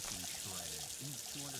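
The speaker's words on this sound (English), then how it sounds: "throw a little water in that" Water is poured into a moonshine mash with yeast, a short rushing pour close by while someone talks over it.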